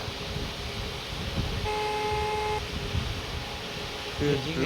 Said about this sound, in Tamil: யார் காரு ஹார்ன் அடிக்கிறது